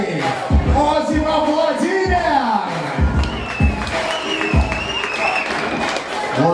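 A crowd at an Arctic Mix Fight event claps and cheers while an announcer's voice booms over the hall, applause running under the amplified talk throughout.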